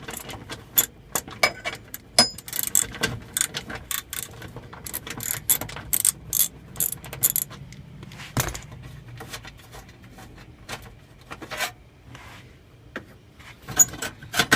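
A ratchet wrench clicks in quick irregular bursts while removing 10mm bolts from a CUCV truck, close-up metallic ratcheting with brief pauses and occasional clanks.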